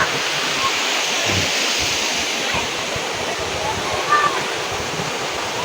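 Falls 3 pours as a steady, loud broadband rush that fills the whole clip, with faint voices and occasional wind buffeting on the microphone.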